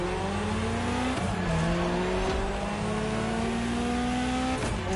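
Car engine in The Crew Motorfest, played on a wheel and pedals, revs steadily with rising and falling harmonic tones and brief shifts between gears, loud and continuous throughout with no talking.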